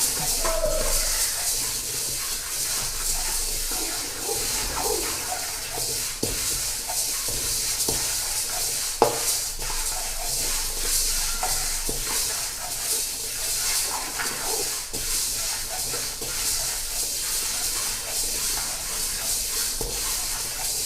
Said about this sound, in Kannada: ನೋಡಿ ಇದು ಅಷ್ಟೇ ಪಟ ಪಟ ಸೌಂಡ್ ಬರ್ತಾಯಿದೆ